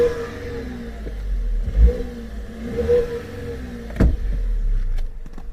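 A 2025 Tata Punch Adventure 1.2 manual car engine cranks and catches, then revs up and down in a few surges, with a couple of sharp clicks.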